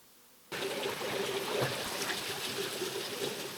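A small waterfall in the bush of Kahurangi National Park on the Mt Arthur circuit pours and trickles steadily, a broad constant rush starting abruptly and holding at a moderate, close level.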